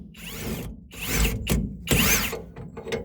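A ratchet wrench works a nut off the rear axle of a V8 Chevy S10 with an 8.5-inch 10-bolt rear end, giving loud close clicking bursts in several separate spells with short pauses between.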